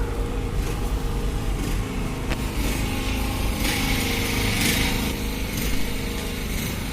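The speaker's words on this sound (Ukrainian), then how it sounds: "тут ось генератор працює" A generator runs somewhere in a busy city street on the eve of New Year, giving a constant loud engine drone with a steady low hum and no break, mixed with faint street noise.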